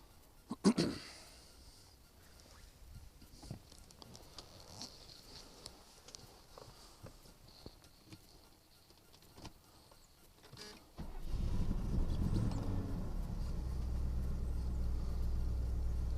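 A 1972 Mercedes 280SE with a 4.5 litre engine starts after quiet rustling and clicks from inside the car, then settles into a steady, loud, low idle that continues to the end.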